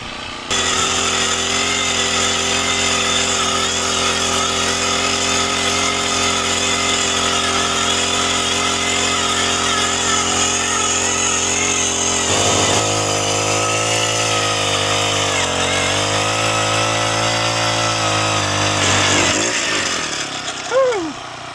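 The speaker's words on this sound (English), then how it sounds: "Okay, now I'm going to drill my second hole for this gate." A loud, steady motorized whine of a power drill boring a post hole in the ground for a gate runs continuously, its pitch dropping and shifting midway under load before cutting off at the end.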